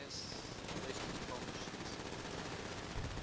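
Rapid machine-gun fire rattles continuously at drivers in the GTA video game, dense and steady for the full few seconds, with players talking over it.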